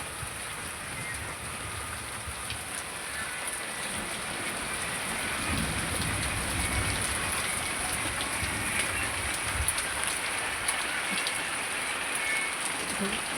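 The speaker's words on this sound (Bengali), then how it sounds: "ভীষণ বৃষ্টি হচ্ছে এখানে" Heavy rain pouring outdoors onto jackfruit trees and leaves, a steady dense hiss that swells slightly midway and continues without a break; no voices are clear over it.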